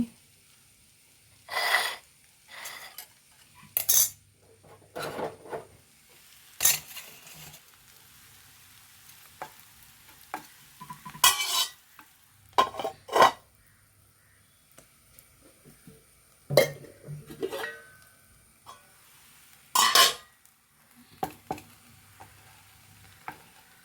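Sautéed okra being stirred and scooped from a pan while making okra masala, giving scattered short scraping and clinking bursts at irregular intervals with quiet gaps between, close and moderately loud, no talking.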